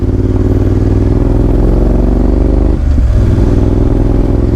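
Heavy 300 kg motorcycle ridden at speed in strong mountain wind on the road to Spiti, a loud continuous engine drone and low wind roar buffeting steadily throughout, with a brief dip near the end.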